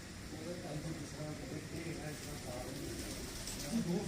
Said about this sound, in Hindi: ये ओरिजिनल कमगर कबूतर दोस्तों आप देख रहे हैं उस्ताद खान मोहम्मद बारा साहब के।